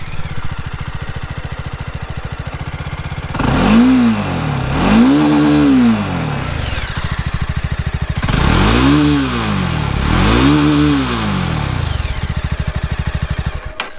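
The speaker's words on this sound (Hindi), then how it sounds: "इसका एग्जॉस्ट नोट सुन लेते हैं।" A Jawa Classic BS6 motorcycle engine idles with a steady thrum, then revs sharply four times, each rise and fall of the exhaust note loud and close.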